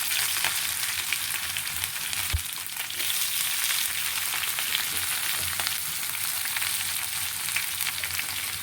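Curry leaves and onion drop into hot oil with chana dal and cumin for a raw mango chitranna, giving a steady, bright frying hiss that holds for several seconds, with a brief clatter early on.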